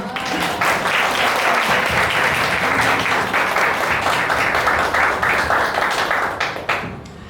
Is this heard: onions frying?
no